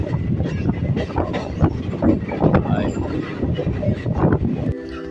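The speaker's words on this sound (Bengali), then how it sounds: "এখন দত্তপুকুর থেকে আমাদের ট্রেনটা ছেড়ে দিচ্ছে বনগা যাওয়ার উদ্দেশ্যে" Local train on the Barasat–Bongaon line pulling out of Duttapukur station, heard from inside as a loud rumbling, rattling roll with jolts, a voice talking over it, then a sudden change near the end.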